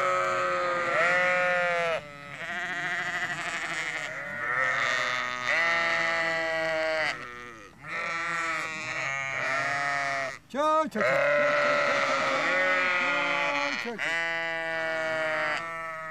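A flock of sheep and lambs bleats continuously nearby, loud overlapping calls of varied pitch with barely a pause.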